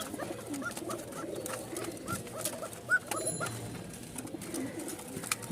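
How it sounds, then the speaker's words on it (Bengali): Several pigeons cooing softly and repeatedly amid a busy background of rustling and faint ticks, with no one speaking. "সব একদম জোস কালারের বেশ কিছু রাজশাহী কবুতর আছে"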